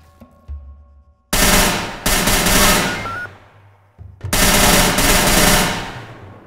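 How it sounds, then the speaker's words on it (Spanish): Rapid automatic gunfire in a Fortnite-style battle game, in two long loud bursts separated by brief pauses. The shots are close and punchy, with no talking. "Están disparando detrás, a alguien, ¿no?"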